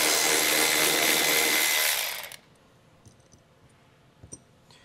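A power tool whirs steadily for about two seconds while removing the 10 millimeter bolts of cargo tie-down hooks inside a 2016 Buick, then stops, leaving a few faint clicks and taps of handling.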